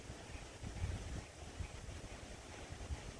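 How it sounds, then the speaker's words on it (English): Wind gusting over open water on a fishing outing, a steady low rumbling buffet on the microphone with broadband rushing, continuous and fairly loud throughout with no voices. "That wind blowing, that's so awesome."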